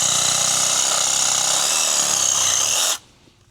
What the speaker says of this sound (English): Now this is a Sawzall, so I don't see it cutting all the way through this.